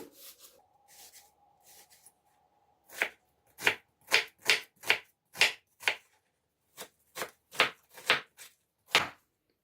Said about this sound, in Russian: Лук нужно мелко нарезать.